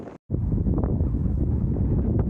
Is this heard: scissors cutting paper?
no